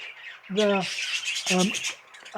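A young bird squawks twice in loud, harsh bursts about a second apart, close by, as it is taken from the flight, with faint rustling between the calls.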